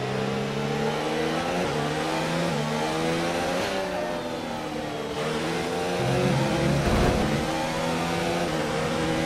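F1 race car engines in the F1 2019 video game at Spa scream continuously at high revs, with harmonic pitch bands rising and dropping through gear changes, loud and alone without talk.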